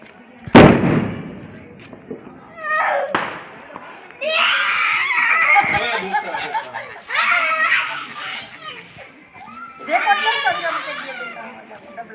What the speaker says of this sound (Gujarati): ફટાકિયા ફોડવાનું ચાલુ થાય છે